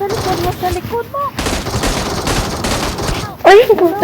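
Gunfire in PUBG Mobile: dense bursts of automatic fire fill the middle of the clip, with shouting and game voices at the start and a loud exclamation near the end.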